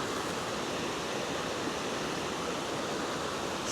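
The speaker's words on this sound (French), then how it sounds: "Putain, la cascade, elle est juste là, je crois." A waterfall on the Estéron river pours in a steady, dense rush of water, constant and fairly near, with no voices over it.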